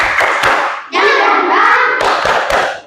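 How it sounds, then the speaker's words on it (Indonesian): Bursts of sharp, rhythmic hand claps from a class doing a spirit-clap routine open and close the passage, with a sustained sung or chanted voice filling the middle stretch. "Tepuk semangat."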